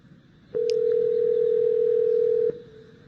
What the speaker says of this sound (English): let's see it making a phone call in a difficult language environment